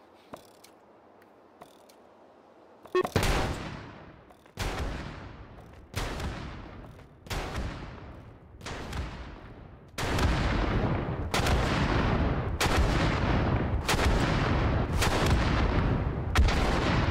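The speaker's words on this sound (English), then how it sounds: "I bet them Civil War guys wish they could fire a cannon this fast." Heavy cannon blasts boom in a video game in a rapid, steady series, each with a long rumbling tail, growing denser and louder toward the end; no talking.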